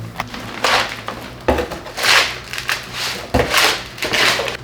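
Gritty scraping and shuffling of damp soil-block potting mix being stirred in a bin, coming in repeated bursts about every second, close and fairly loud.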